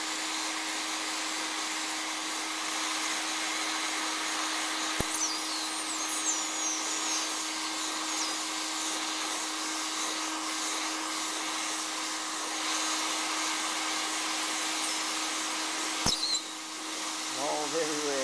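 A homemade vacuum former runs steadily for the whole stretch with a loud, even motor whine and airy roar, broken by two sharp clicks, while a voice speaks briefly near the end.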